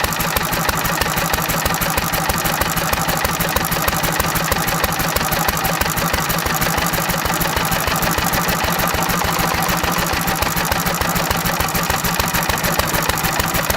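Small engine running at full throttle on pure SeaFoam fuel additive, a steady, loud, rapid buzzing drone that holds unchanged throughout, close up and with no talk.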